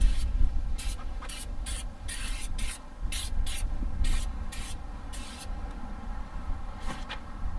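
An aerosol can sprays a rust-prevention coating across the front end of an RV in a series of short hissing bursts, about a dozen quick sprays close by with brief pauses, over quiet background rumble.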